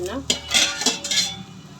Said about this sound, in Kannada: ಇವಾಗ ನಾನಿಲ್ಲಿ ಕ್ಯಾರೆಟ್ ಚಪಾತಿನ ಮಾಡ್ಕೋತಾ ಇದ್ದೀನಿ ಎರಡು ಕಡೆನೂ ಸ್ವಲ್ಪ ಎಣ್ಣೆ ಹಾಕಿ ಹಾಕಿ ಬೇಯಿಸ್ಬೇಕು